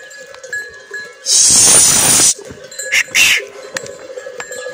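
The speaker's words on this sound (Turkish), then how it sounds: "Koyun bugün doğru düzgün yayılmadığı için bugün koyun aç." A flock of hungry sheep with bells clanking and jingling, a loud burst of bell and bleat noise rising for about a second, then quieter scattered clinks and another short bleat over a steady outdoor background.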